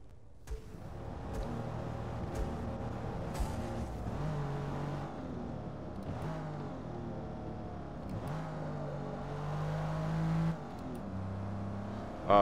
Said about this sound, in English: we're going to take it for a lap of the ring and see what it does.